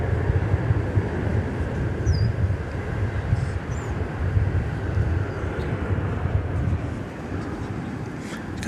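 An American Airlines airliner arriving at DFW Airport from Tulum, Mexico. Its engines give a steady, broad low roar that holds at a constant level throughout, with no voices.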